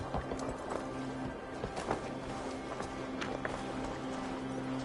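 Horse hooves clip-clop steadily in Assassin's Creed Valhalla, a regular rhythmic gait of close, distinct strikes over a low droning background, with no talk over them.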